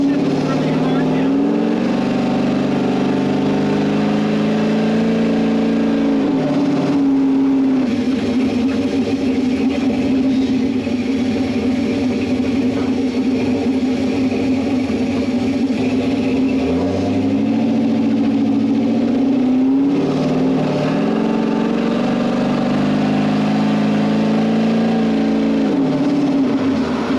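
Factory Five 33 hot rod with Terminator X fuel injection driving on the street, engine droning and rising as it accelerates, with dips where gears shift; the loud cabin noise continues throughout while occasional talk is heard.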